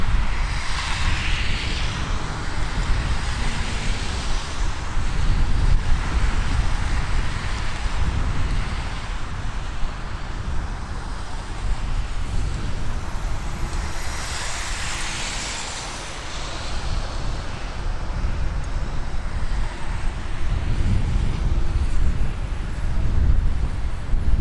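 Airliner engine roar at Toronto Pearson Airport on a cold, windy night, a sustained broad jet rumble that swells and fades over the span, mixed with gusty wind buffeting the microphone.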